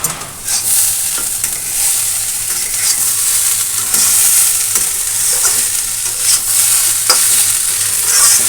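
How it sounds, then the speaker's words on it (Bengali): Banana stem frying with a half spoon of sugar in a pan, stirred steadily; a dense, loud sizzle runs throughout with scraping stir strokes and soft clicks of the spoon against the pan. "চিনি দিয়ে আর একটু ভালো করে ভেজে নেব"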